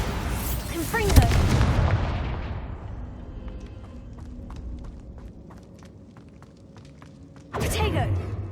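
Bombarda and Confringo spells go off in Hogwarts Legacy with a loud, booming blast that fades slowly into rumble and faint ticking, then a second burst erupts near the end.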